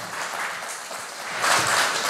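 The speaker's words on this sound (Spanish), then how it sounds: "Un fuerte aplauso necesito." Church congregation applauding during a Spanish-language worship service: a short burst of crowd clapping that swells louder toward the end, heard indoors at moderate distance.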